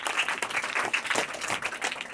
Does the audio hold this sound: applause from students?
yes